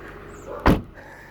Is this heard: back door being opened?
yes